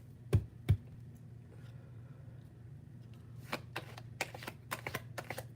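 Keyboard typing in a quiet room: two sharp isolated clicks near the start, then a quick run of light irregular keystrokes toward the end, with a faint low hum underneath throughout.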